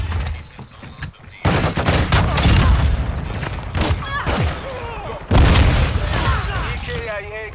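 Dense gunfire and heavy booms in Call of Duty: Modern Warfare 2, loud bursts of rapid shots layered with thuds and blasts, with game voices calling out over the firefight.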